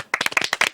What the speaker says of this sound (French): On applaudit fort là.